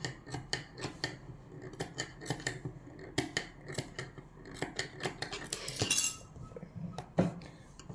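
Scissors snip through fabric at a sewing table in a quick irregular series of crisp, close, quiet cuts, with occasional soft clinks between the snips.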